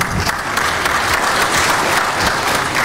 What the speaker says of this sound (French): Merci d'applaudir encore une fois.